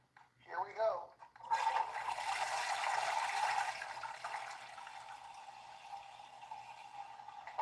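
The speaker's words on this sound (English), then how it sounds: "we'll flush the toilet right here on camera" A household bathroom toilet flushes in one strong rushing surge of water that then settles into a steadier, quieter refill hiss; a brief voice is heard just before it.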